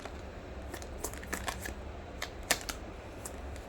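Tarot cards being drawn and handled during a love reading, heard as scattered soft, crisp card snaps and flicks at close range, with one sharper slap near the middle over a low steady hum.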